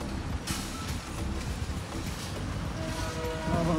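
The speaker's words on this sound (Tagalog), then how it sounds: "Tapos may tren na dumadaan." An orange train passes near a grocery store, giving a steady, loud broadband rumble throughout, with faint tonal squeals rising near the end.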